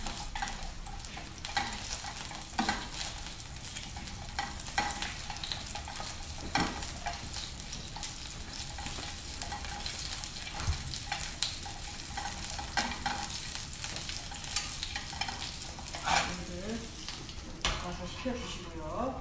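Cucumber stir-fried in a heated, oiled pan for a Korean cucumber dish, giving a steady broadband sizzle with scattered stirring scrapes and clicks throughout, moderately close, with no talk over it.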